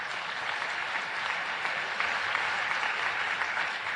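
An audience at a United Nations special session applauds steadily, a dense even wash of clapping with no voices.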